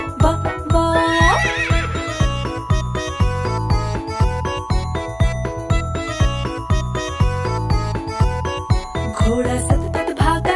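A cartoon horse neighs over a steady, rhythmic clip-clop of hooves, set inside a bouncy children's nursery-rhyme song with jingling bells and busy music throughout.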